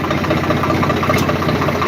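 A tractor engine idles loudly and close by, a steady low chugging rumble with a constant mechanical throb and no voices.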